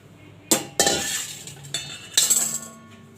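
Knife chopping carrots on a board in a home kitchen, with several sharp, separate clacking strikes and scraping, close and distinct, spaced irregularly with no talking.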